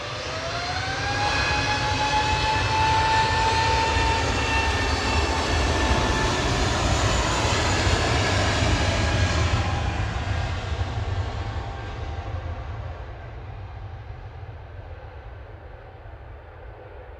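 An Airbus A320neo jet on its takeoff run at Manchester Airport gives a loud, sustained engine roar with rising whine tones that builds and then slowly fades as it moves away.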